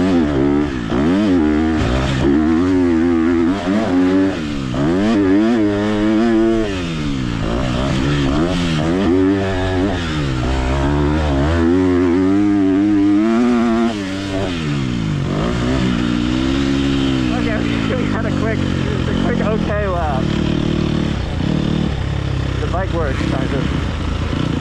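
A 250 motorcycle races around a dirt track, its engine revving up and down in repeated rising and falling sweeps, loud and close throughout with no pause.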